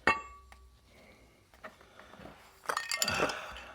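A metal washer clinks onto a barbell sleeve, giving a sharp metallic tap followed by a short burst of scraping and clinking metal, close and fairly quiet.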